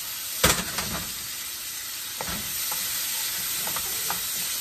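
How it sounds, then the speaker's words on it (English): Blanched vegetables for a teriyaki chicken stir fry sauté in a hot pan, giving a steady soft sizzle with a few sharp clatters of stirring near the start and scattered light scrapes afterward, with no talking. "So let's just get it to stir, let it saute a little bit."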